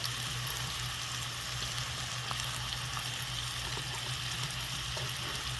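Onions frying in a pan beside browning ground beef for tacos: a soft, steady sizzle and crackle that holds evenly throughout and stays fairly quiet, with no talking.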